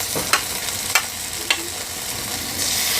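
Ginger, cumin, garam masala and garlic pastes fry with onions for mutton, a steady close sizzle broken by three short, evenly spaced spatula scrapes.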